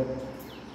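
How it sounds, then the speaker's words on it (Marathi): Faint bird chirps outdoors over a quiet background hum, a few light tweets in the upper range. "पक्ष्यांचा किलबिलाट ऐकायला येतो."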